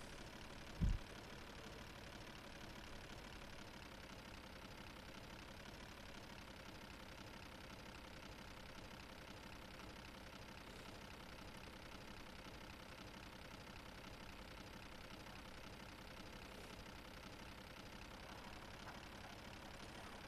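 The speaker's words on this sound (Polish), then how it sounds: "Ten ciągnik na jedynce wyciąga 14." A tractor engine in Farming Simulator 2011 drones steadily in first gear while pulling a plough, a constant mid-low rumble that holds even throughout with no talk, only a brief click near the start.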